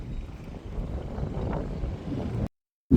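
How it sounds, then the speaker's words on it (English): Wind gusting steadily at Gallipoli on Italy's southern heel, a loud broadband rumble buffeting close to the microphone, cutting off abruptly before a brief return at the end. "We're here in Gallipoli and it's pretty windy."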